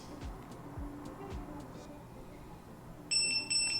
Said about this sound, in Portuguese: Seguro até ouvir 2 bips.